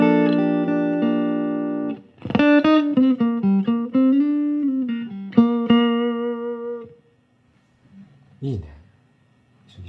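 A clean electric guitar rings out through a Fender Tone Master Pro digital amp simulation with light effects, played alone in short phrases, then a brief low strum near the end.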